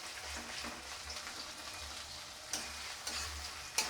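Crushed garlic frying in a pan while being stirred, a continuous crackling sizzle with soft scraping from the utensil and a few sharper clinks, close and steady.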